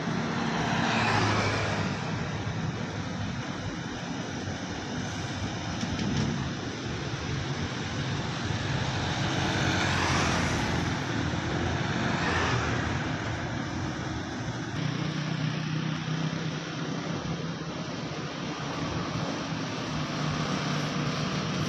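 A PT Pelangi sleeper bus passes on a road, its steady engine and tyre roar loud and continuous with broadband road noise throughout, swelling slightly mid-way.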